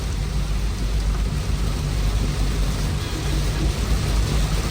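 Heavy rain pours steadily on surfaces with rumbling thunder during a monsoon drive near Mount Abu, a dense, loud, continuous wash of sound with no voices.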